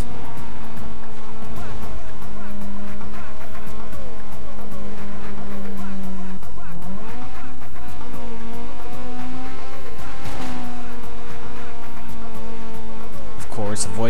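A Fiat starter car racing in Need for Speed: Most Wanted, its engine droning steadily with pitch rising and dipping through gear shifts, loud and close, under spoken commentary.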